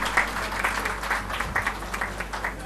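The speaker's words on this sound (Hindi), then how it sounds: "पूरी समिति के पदाधिकारियों के लिए एक बार तालियां बजाएं।" Audience applause at a Hindi poetry gathering (kavi sammelan), a steady crowd of clapping hands that holds at a fairly even level across the whole stretch, dense and continuous with no voices over it.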